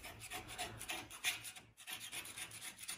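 Steady rubbing and scraping as a window frame is cleaned before new glass goes in, close, quiet and continuous, with a brief pause partway through.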